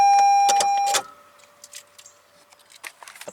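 A 2019 Toyota RAV4 LE engine runs with a steady, fairly loud hum, then cuts off about a second in. Quiet clicks and light ticking follow in the near-silence.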